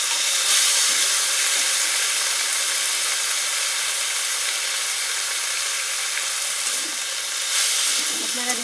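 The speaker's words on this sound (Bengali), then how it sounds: "আমি আদার জলটা দিয়ে দিলাম" Ginger water hits a hot pan of frying potato, tomato and onion for an okra-potato curry, giving a loud, steady sizzle and steamy hiss that runs unbroken throughout, with no talk over it.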